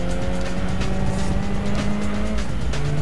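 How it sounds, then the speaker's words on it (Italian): Race car in the Gran Turismo 2 racing game braking hard on Bridgestone tires, with a loud steady engine drone and sustained tire squeal running through the whole stretch, no voices. "Frenata."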